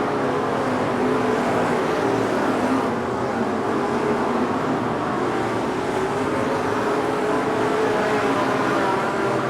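Sprint car engine at a dirt track in Bloomington, Indiana, running a lone qualifying lap during an All Star Circuit of Champions event, a loud, continuous roaring drone that stays steady throughout.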